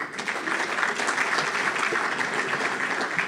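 Applause from a banquet audience at a Labour Day banquet, a steady, dense clapping of a crowd that holds evenly loud throughout, with no voices over it.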